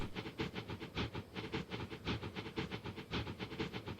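Trains run along the track in a train simulation game of Manchester, with a steady rhythmic clickety-clack of wheels over rail joints and a soft hiss, moderately loud and continuous, no talking.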